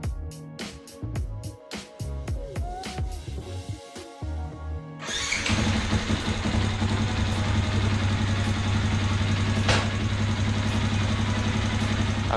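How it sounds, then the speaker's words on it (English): A Yamaha WR 125 X supermoto motorcycle engine cranks with a series of rapid starter bursts, then catches and settles into a loud, steady idle that continues close by without talk. "I've just got the bike running now"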